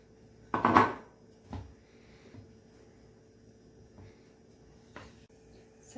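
Honey and butter mixture is worked into bread dough in a bowl. A clattering scrape sounds near the start, then soft, scattered knocks and taps of the utensil follow in a quiet kitchen, with no talking.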